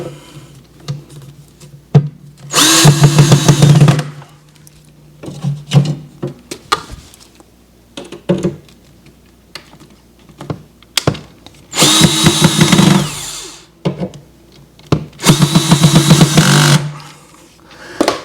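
A power drill whirs in several short bursts of a second or two each, close by, while assembling an IKEA Maximera drawer and cabinet, with clicks and handling noises between runs.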